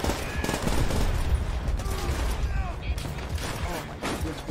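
Gunfire in the Call of Duty: World at War video game, a dense fusillade of rapid shots under a voice talking excitedly over the battle.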